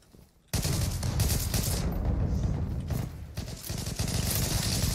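Sustained gunfire rattles through a round of the online shooter Zula, a dense, loud stream of rapid shots and overlapping bursts from several weapons, with only a brief quiet moment before it starts.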